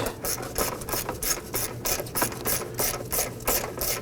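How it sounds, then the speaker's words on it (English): A ratchet with an extension and 10mm socket loosens a bolt on the air filter box of a 2005-2009 Subaru Legacy 2.5L H4, giving a steady run of close, crisp pawl clicks in quick regular bursts. "Using our ratchet extension and 10mm socket, loosen and remove this bolt."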